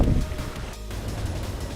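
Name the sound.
wind blowing at a gravel-pit lake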